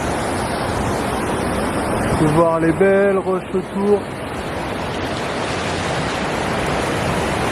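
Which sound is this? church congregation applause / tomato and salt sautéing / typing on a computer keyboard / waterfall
waterfall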